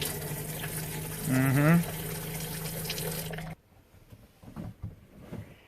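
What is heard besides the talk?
water running from RV sink faucet, cold then hot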